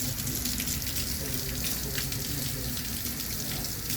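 Soap being rinsed off hands under a running tap, a steady, fairly quiet rush and splash of water that continues without a break.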